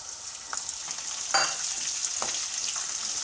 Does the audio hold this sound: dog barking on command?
no